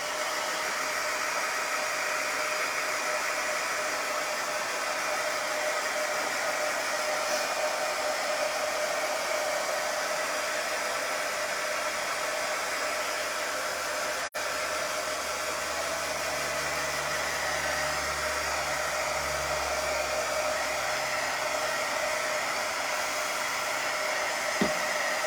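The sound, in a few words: dryer drying a sports quotes plaque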